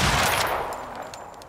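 Gunfire in the survival video game Icarus, on the Styx map, as an enemy is shot: a loud opening burst of shots followed by a lingering, decaying rumble with a few fainter reports trailing off, no talking.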